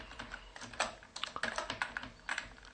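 Code being typed on a computer keyboard: a rapid, irregular run of close key clicks and clacks with brief pauses, no talking.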